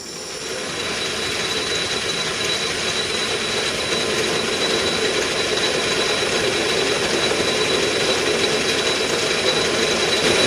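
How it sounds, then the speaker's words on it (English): A steady, whirring drill grinds continuously through material, a dense mechanical hiss and hum that holds at an even level from start to finish. "When you're drilling deep holes like this, you want to take it easy."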